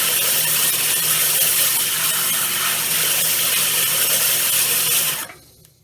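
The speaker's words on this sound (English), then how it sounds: "Sometimes this edge of the glaze is kind of sharp, so I will often, on an angle, grind it down." An angle grinder works the sharp glaze edge on a ceramic piece, a loud steady whine that runs unbroken for about five seconds and then cuts off abruptly, leaving quiet.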